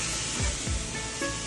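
Water poured into a hot pan of sautéed vegetables, including carrots, for manchow soup, making a steady, close hissing rush with no voices.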